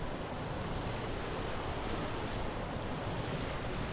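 Rushing water of a stream fed by a waterfall at an outdoor spot, a loud, steady broadband roar that runs unbroken and close throughout, with no voices.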